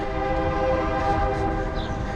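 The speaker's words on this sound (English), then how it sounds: "I don't know if you can hear the train." A train rumbles steadily a block away in a city, a continuous low droning with a sustained horn-like tone, heard from a distance during a run.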